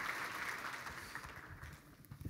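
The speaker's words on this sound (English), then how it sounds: "Give another round of applause" A large business audience gives a round of applause, a soft, fairly distant patter of clapping that thins out toward the end.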